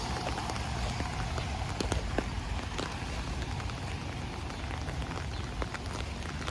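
Steady rain falls on a walk through Howard Beach and Lindenwood in Queens, New York, a dense constant hiss of drops spattering on pavement and surfaces, with faint scattered patters and no talk.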